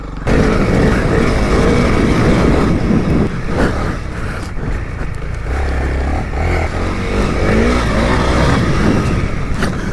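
A Honda CRF300L dual-sport motorcycle's engine drones loud and close while riding, holding a steady throaty roar with slight swells in revs and wind rumble throughout.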